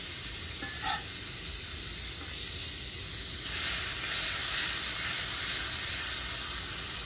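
A smashed taco frying in a pan, steady close sizzle that grows louder and fuller partway through, with a faint tap or clink near the start.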